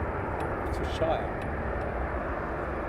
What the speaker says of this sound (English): She gracefully does touch and goes here at RAF Brize Norton runway 25 in Oxfordshire